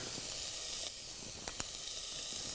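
Onion sizzles in hot oil in a pan, a steady, faint, even hiss broken by two brief pops, with no voices over it.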